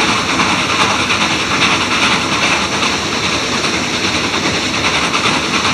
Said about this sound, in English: the crew back in the tool car leaned out the open doors to listen to the beautiful sound of the